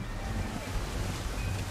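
Open-sea waves and wind wash steadily around a sailing ship in Assassin's Creed 3, a continuous, moderately loud surf noise with no talk.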